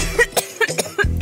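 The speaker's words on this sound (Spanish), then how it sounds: "¡Quiero curarme esta tos!" A woman at a doctor's visit in a comic sketch lets out a short burst of several rough coughs, loud and close, packed into about a second.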